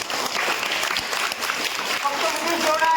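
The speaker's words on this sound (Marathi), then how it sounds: "त्यासाठी चेतन भाऊ साठी सर्वांनी टाळ्या वाजवा" Applause from an audience at a school digital-education event, a continuous patter of many hands clapping with a voice heard partway through.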